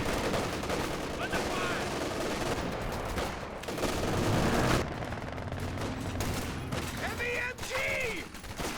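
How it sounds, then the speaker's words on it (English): Machine gun fire and gunfire from a Company of Heroes 2 one-versus-one match, with an MG firing from a building. Dense, continuous battle noise with bursts of shots that swell midway, under faint background voices. "gonna have trouble with this MG in the building here"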